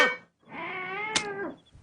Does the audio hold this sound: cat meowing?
yes